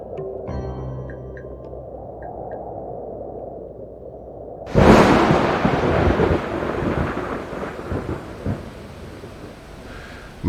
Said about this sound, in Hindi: बरसात का हाल न पूछो